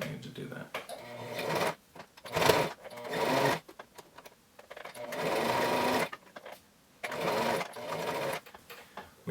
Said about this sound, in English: When you get to where you're going to sew over the tie